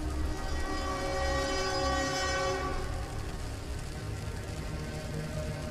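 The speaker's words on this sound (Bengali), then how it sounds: "প্রচন্ড হুইসেল বাজিয়ে যখন ট্রেন ওই প্ল্যাটফর্ম ছাড়া শুরু করলো" A train whistle blares loudly for a few seconds as the train begins leaving the platform, followed by the steady rumble and rattle of the railcars.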